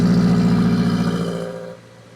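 Turbocharged 8th-gen Honda Civic engine running with the exhaust cutout shut, a steady close droning hum that fades and cuts off near the end.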